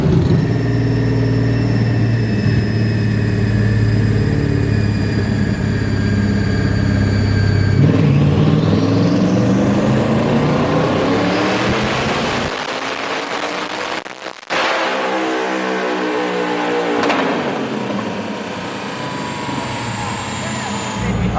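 A twin-turbo Ford Mustang making over 1300 wheel horsepower roars loud and close through a rising dyno pull on a chassis dyno, its engine note sweeping upward for about twelve seconds, then dropping and revving again as the run winds down.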